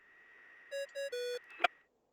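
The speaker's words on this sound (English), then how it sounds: "What's that ringing?" A communication device rings in Genshin Impact: three short electronic tones in a quick pattern, the last one held slightly longer, then a sharp chime, clear and alone against a quiet background.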